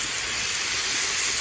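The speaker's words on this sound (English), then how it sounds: "Oh yeah, that's steam, baby" Steady, close hiss of steam rising as water hits a hot Blackstone griddle being used to cook peppers and sausage, a continuous broadband rush that holds evenly throughout with no talk.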